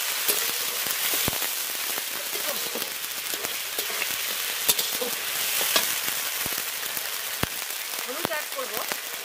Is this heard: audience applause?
no